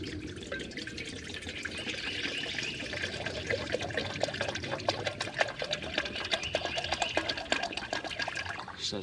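Tap water runs steadily into a cooking pot at an outdoor summer shelter camp, a continuous splashing trickle close by with no talk.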